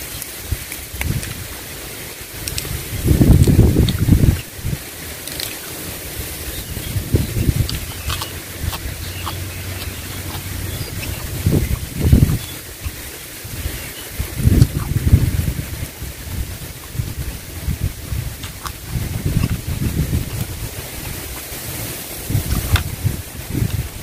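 Wind gusts and rain out in an open rice field, a broad rushing wash with repeated heavy low buffeting bursts against the microphone, steady and fairly loud, with no voices.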